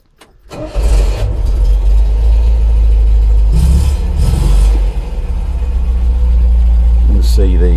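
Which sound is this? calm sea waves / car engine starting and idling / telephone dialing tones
car engine starting and idling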